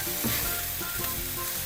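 Paneer sautéed in a pan for a pepper fry, giving a steady close sizzle with a few soft scrapes of stirring across a short stretch, no voices.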